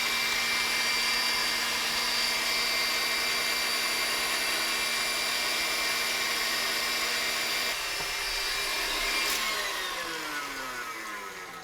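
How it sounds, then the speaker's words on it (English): An electric whisk beats egg whites, salt and sugar into meringue for a ginger and lemon tart, a loud steady motor whine with rattling beaters that runs unbroken, then dips in pitch and fades slightly near the end. "The one thing you need to remember when you're using like an electric whisk is you've got to make sure you scrape down the sides"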